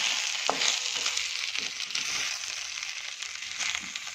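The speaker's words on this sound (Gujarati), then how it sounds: "એકવાર ફરીથી આપણે ઉપમાને હલાવી દઈશું" Quinoa upma stirred in a hot pan with vegetables, a steady close sizzle with soft scraping strokes of the spoon repeating through the moment, no voices.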